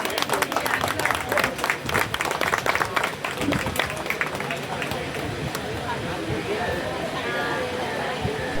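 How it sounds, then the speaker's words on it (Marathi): Applause from a gathered crowd of workers at a felicitation ceremony honouring a police superintendent, dense clapping that swells at first and then settles into a steady wash of claps and crowd babble throughout. "एकदा जोरदार टाळ्या झाल्या पाहिजे प्लीज."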